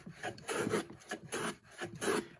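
Hand plane shaving green wood across the grain on a Roman workbench, soft rasping strokes repeated in a steady rhythm, fairly quiet and close.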